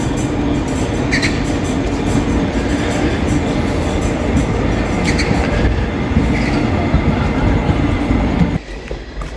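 A Mugunghwa passenger train rumbles loudly and close by at Mulgeum Station in South Korea, wheels clattering and faintly squealing, then the noise drops off abruptly near the end.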